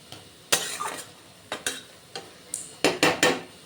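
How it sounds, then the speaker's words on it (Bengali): Tender note shak greens frying in a pan, a steady sizzle broken by repeated scraping stirs of a spatula against the metal, several sharp strokes near the end, close and loud with no voices. "আরও 2-3 মিনিট মতন হতে দেব যাতে একটু ভালো করে ভাজা হয়"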